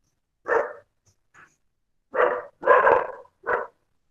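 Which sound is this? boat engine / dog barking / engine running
dog barking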